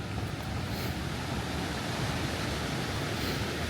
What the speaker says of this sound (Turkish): sağlam bir su akıyor arkadaşlar.